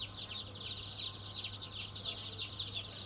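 Mía chickens on a commercial poultry farm raising about twenty thousand birds, a dense continuous chorus of clucking and chirping from many hens, steady and moderately loud with a low mains-like hum underneath.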